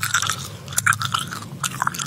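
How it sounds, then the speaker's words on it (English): A cookie is chewed in the video game SCP 096 Chase, a close, steady run of crunchy, moist bites and mashing with a few sharper crackles. "It's eating a cookie."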